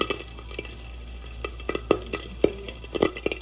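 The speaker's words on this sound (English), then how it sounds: "when we're frying it, it pops and jumps around like popcorn" Diced ham sizzles steadily in a hot pan on medium-high heat while scattered sharp, popcorn-like pops and crackles burst irregularly, growing more frequent toward the end.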